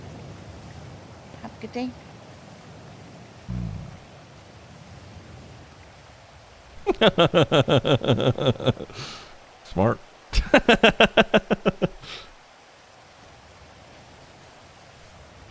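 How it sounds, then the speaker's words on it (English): Steady nighttime rain in GTA NoPixel keeps up a constant broadband hiss throughout, under loud, intermittent talk. "I fucking love the rain."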